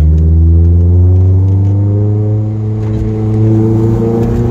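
A light 122 hp Lotus Elise S2 sports car on small open country roads, its engine loud and close, revving up with a rising pitch, easing briefly midway, then pulling again, with no talk over it.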